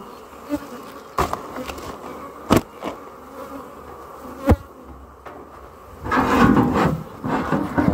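Honeybees buzz around an opened hive with foragers and guard bees, a close continuous drone that swells louder near the end, punctuated by wooden knocks and frame handling sounds.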